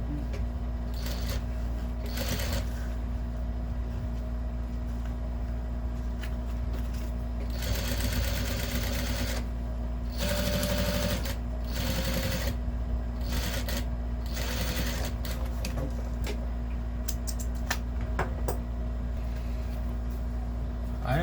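A domestic sewing machine runs steadily as it stitches around the edge of a fabric lunch bag, a continuous motor whir with a few brief pauses and faster bursts throughout, close and fairly loud.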